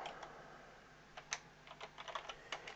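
Fingers type on a computer keyboard in quick, irregular bursts of light clicking keystrokes, close and fairly quiet, with no voices.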